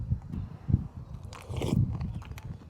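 Close, crunchy chewing of chocolate cereal with repeated bites and soft crackling, steady and intimate with no talking.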